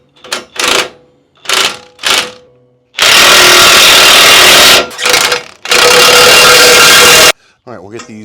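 A power tool torques bumper bolts on a 2019 Ford F250, starting with several short, sharp bursts and followed by two long, loud, rattling runs up close, then a quieter trailing sound.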